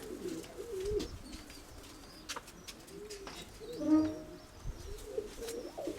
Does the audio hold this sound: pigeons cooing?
yes